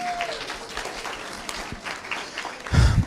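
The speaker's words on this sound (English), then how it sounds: "give yourself a round of applause" A conference audience applauds, a moderate, continuous patter of clapping in a hall that swells near the end.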